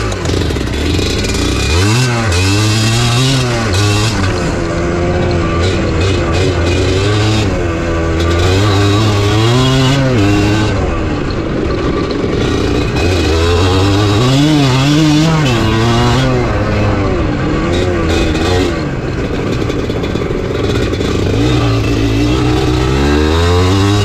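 Kawasaki dirt bike engines on an off-road trail ride rev hard and close, pitch rising and falling in repeated surges with a rough, buzzing two-wheel growl throughout.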